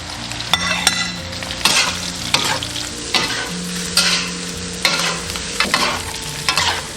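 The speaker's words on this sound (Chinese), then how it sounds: "炒香后下入胡萝卜丝" Shredded carrot and mushrooms tossed in hot oil in a wok, with steady sizzling and repeated scraping, clattering stirs of the spatula throughout, close and fairly loud with no talking.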